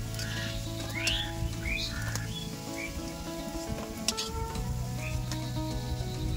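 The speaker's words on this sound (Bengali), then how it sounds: "একটু মুচমুচে করে ভাজতে হবে" Bottle gourd leaf fritters frying in hot oil in a village kitchen, a steady sizzle running throughout with occasional stirring clatter and bird chirps outdoors in the background.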